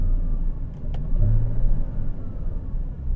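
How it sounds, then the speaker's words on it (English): Porsche 981 Cayman or Boxster engine blipping on a downshift, a loud close rumbling rev that swells mid-clip and settles back to a steady drone. "And of course, a downshift."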